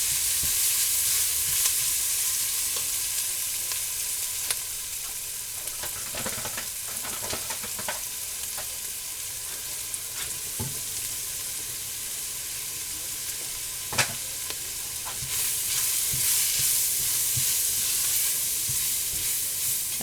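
Flour cooking in oil for a chicken and dumplings roux: a steady bright sizzle with soft frying crackle and occasional scraping stirs, close up and continuous without talk.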